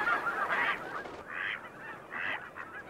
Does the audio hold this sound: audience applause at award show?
no